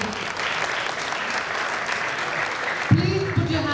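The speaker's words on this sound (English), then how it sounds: "Please put your hands together for another round of thunderous applause" Sustained applause from an audience at a college alumni event, steady and dense throughout, with a voice speaking over the clapping near the end.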